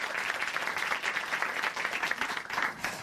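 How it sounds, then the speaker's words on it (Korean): Clapping from a church-program studio audience thanking a guest after a testimony, dense and continuous with a fairly even level throughout, moderately close, with no one speaking over it. "오늘 귀한 간증 전해주신 우리 김슬기 형제님께 다시 한번 감사의 박수 보내드립니다."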